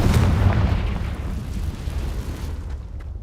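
A Confringo blasting spell explodes in the Hogwarts Legacy video game: one heavy booming blast that rolls off into a fading rumble.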